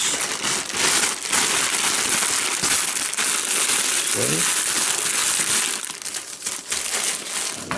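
Plastic bags are crumpled and crushed near a lathe, a dense, continuous crackling rustle that runs loud and close for several seconds before easing off, with a brief spoken word.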